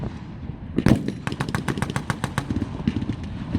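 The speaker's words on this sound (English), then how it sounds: "The M8 comes into the field, plus two half-tracks with 50 caliber machine guns." Rapid bursts from .50 caliber machine guns mounted on half-tracks rattle out at a military reenactment, a close, loud, steady string of sharp shots.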